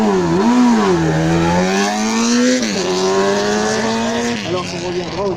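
A vintage Honda Rickman CB750 motorcycle engine revs loudly and steadily nearby, pitch rising and falling through several gear-like sweeps over a few seconds, with an announcer's voice talking over it.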